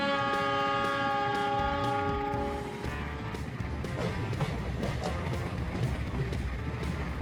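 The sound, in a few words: train pulling carriages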